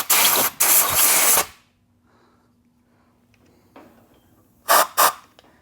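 Compressed air blasting out a drilled hole during a motorcycle shift shaft seal and helicoil repair, two loud hissing bursts up close, a quiet pause with faint handling, then two more short sharp blasts.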